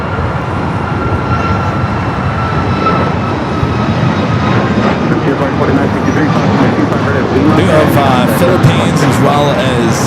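A Philippine Airlines jet, flight 123 to Manila, rolling down runway 24 left at LAX, a loud steady engine roar that swells toward the end.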